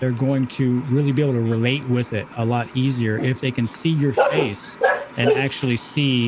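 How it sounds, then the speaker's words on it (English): A dog barks and yips repeatedly in the background during a podcast conversation, its rhythmic woofs and whimpers mixing with someone talking steadily over them. "Sorry about my dog."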